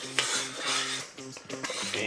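Spoon stirring boiling low-sugar raspberry jam in a pot, with close scraping and clinking against the pot's sides in quick, uneven strokes and a soft bubbling hiss underneath.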